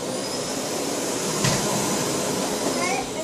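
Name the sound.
vacuum cleaner running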